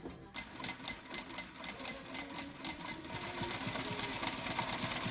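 A sewing machine stitches a multipurpose bag with cord straps, a close, steady rapid mechanical rattle of the needle running continuously and getting slightly louder.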